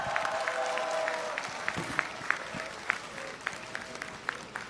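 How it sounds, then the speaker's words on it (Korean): An audience at a Busan political campaign rally claps steadily from a distance, with sharper individual claps and faint crowd voices beneath the applause. "이분이 올라오시니까 제가 사회를 보는데도 막 박수가 터져 나와갖고 행사 진행이 어려웠는데요"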